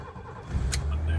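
A BMW E30 325e starts up: a short whirring crank, then the engine catches and settles into a steady, close, loud idle, with no talking.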